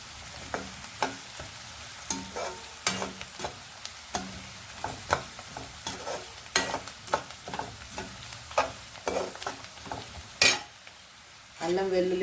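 Curry leaves and coriander frying in a simmering curry, with steady sizzling under repeated scrapes and clinks of a spoon stirring against the pan, alone and close.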